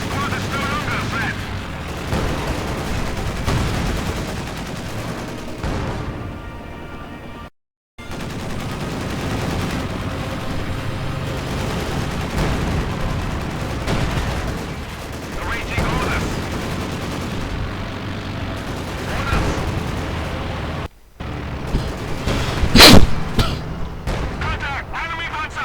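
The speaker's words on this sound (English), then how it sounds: "Lots of strafing runs going on, though half the time again they don't achieve much" Gunfire and aircraft strafing runs in the Company of Heroes 2 video game rattle continuously for the whole stretch, with bursts and booms. A commentator talks throughout and the sound drops out briefly twice.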